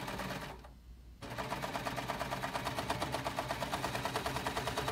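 Sewing machine stitching through four layers of fabric for cuffs, a rapid rhythmic mechanical clatter that pauses briefly near the start, then runs steadily and fairly quietly.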